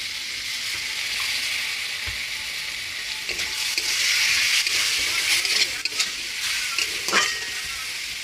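Potatoes, peas and chicken with chilli powder, cumin and a splash of water fry in a pan, giving a steady close sizzle and hiss with scraping stirs and light clinks of the spoon.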